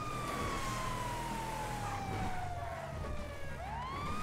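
A police car siren in a video game wails loudly over steady engine rumble, its pitch sliding slowly down before rising again near the end.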